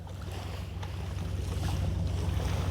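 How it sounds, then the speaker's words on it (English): Steady rushing wash of sea water over a constant low engine hum, loud and continuous with no voices. "Can you hear the sea?"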